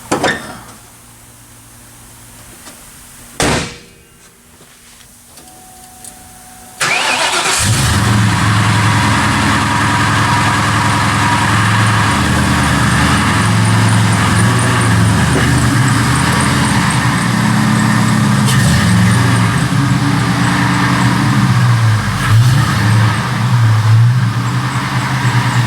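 A supercharged Kenne Bell New Edge Mustang engine cranks with a sharp catch and then fires into a loud, steady, rumbling idle that continues close by for about twenty seconds after a quiet, weak-battery start.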